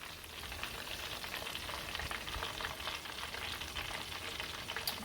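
Cajun crispy fish fries in hot oil, a dense, continuous crackling sizzle, fairly quiet and close, with no talking.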